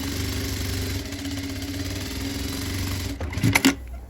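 A steady, close hum of a sewing machine stitching a blouse runs for several seconds. It ends in a couple of sharp clicks and knocks.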